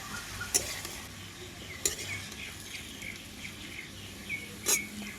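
Cucumber slices with chopped onion fry in hot oil while a utensil stirs them, making a few sharp scraping clicks over a soft, even sizzle.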